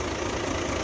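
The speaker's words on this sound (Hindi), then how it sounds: "तो ये इसका इंजन है" A diesel engine with a back-compression blowout fault runs at a steady, even idle, close and continuous with no voices.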